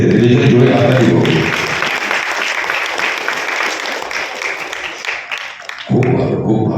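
An audience at Saraswati Natyasala's Independence Day cultural stage show bursts into loud, sustained clapping for several seconds, bracketed by stage sound before and after.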